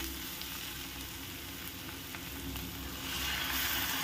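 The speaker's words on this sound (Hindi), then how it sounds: "मसाला भाजीमध्ये एकजीव झाल्यानंतर आपण ह्यामध्ये अर्धी वाटी पाणी ॲड करू" Spiced vegetable bhaji for Mumbai-style masala pav sizzling in a pan as water is poured in, a continuous frying crackle that swells louder toward the end, no talk.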